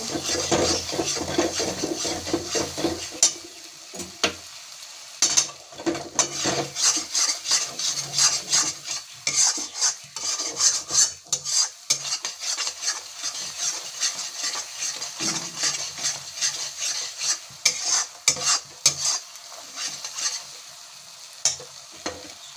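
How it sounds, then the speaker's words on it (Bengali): Chickpeas and spice paste sautéed in oil for chole, with a spoon scraping and stirring steadily through a continuous close sizzle, dense rhythmic clatter against the pan throughout. "আমরা তেল ছেড়ে গেছে, ভালো করে কষে নিয়েছি।"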